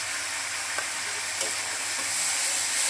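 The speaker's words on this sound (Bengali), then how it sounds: "এখন মশলাটাকে ভালোভাবে কষিয়ে নেব।" Masala with chili powder and coriander powder fries and is stirred in oil in a pan for tel koi fish curry, making a constant bright hiss with a few faint scraping clicks.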